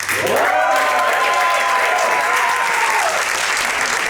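A stand-up comedy audience applauds and cheers loudly, with dense, sustained clapping and a few whoops rising over it for several seconds.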